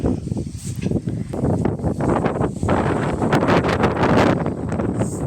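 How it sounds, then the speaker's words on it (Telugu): Strong gusty wind roars across the microphone on a stormy evening in Karimnagar with thunder about, a continuous loud buffeting rush with surging peaks and rustling. "చూడండి గాలి ఎట్లా వస్తుందో ఫుల్గా వస్తుంది"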